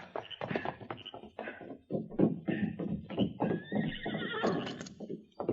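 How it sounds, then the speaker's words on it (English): Radio drama sound effect of horses reined up after a ride, with a loud close whinny and neighing over hoof clip-clops and snorts, no voices. "they finally reined up their horses"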